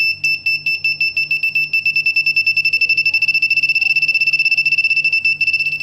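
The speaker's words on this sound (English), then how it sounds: "As I bring my hand closer, the beep's frequency will increase." An Arduino ultrasonic proximity sensor beeps, high-pitched and loud, starting spaced apart and speeding up into a rapid, nearly continuous series as a hand moves closer.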